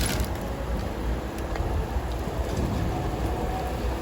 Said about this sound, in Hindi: आज यहाँ पे मौसम बहुत ही प्यारा हो रहा है, कभी बारिश हो रही है कभी रुक रही है।